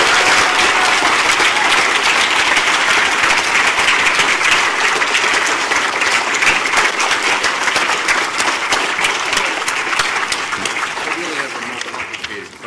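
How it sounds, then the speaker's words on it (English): Lecture audience breaks into loud, sustained applause, dense clapping from many hands that stays strong before tapering off slightly at the end. "let's give him a big round of applause."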